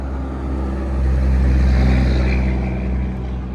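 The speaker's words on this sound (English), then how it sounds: "always a big truck going by when you want to talk" A big truck rumbles past on a road outside, its deep engine drone swelling to a loud peak midway and then easing off, with no voices over it.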